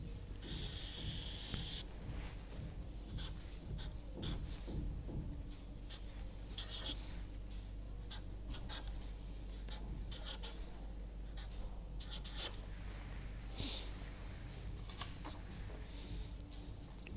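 A pen scratches and taps across paper while sketching a graph, a close, quiet run of short strokes with brief pauses between them.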